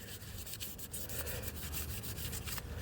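Hand rubbing and sanding on a gasket surface of a 1965 Ford Thunderbird part, a quiet rhythmic scraping of short back-and-forth strokes over a low steady hum, with no talking.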